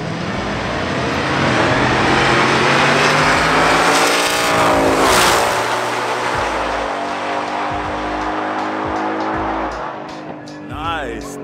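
Race cars at a drag racing event: a loud engine roars and revs up with rising pitch, then another engine note sweeps past, with tire noise and crowd chatter from the trackside.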